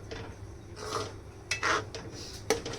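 A spoon scrapes and stirs carrot halwa simmering with milk in a pot at home, a few soft scraping strokes, then two sharper metallic clinks against the pot, heard close up with no talking.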